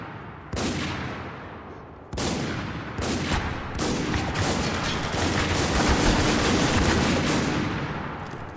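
Sniper rifle fire in the shooter game Spec Ops: The Line, multiplayer team deathmatch on a desert map: several loud, sharp reports in irregular succession, each with a long echoing tail, building into dense overlapping gunfire.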